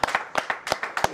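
Audience clapping at a live album launch, a short burst of scattered, uneven handclaps from a small crowd, fairly close and irregular in rhythm.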